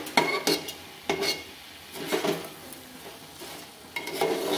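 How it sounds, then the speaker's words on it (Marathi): Washed rice being roasted in spice masala in a pan, soft sizzling beneath several distinct scraping and tapping strokes of a spoon at roughly one-second intervals, close and unaccompanied by speech. "त्याला आपण 2 मिनिटं भाजून घेऊया मसाल्यामध्ये भाताला"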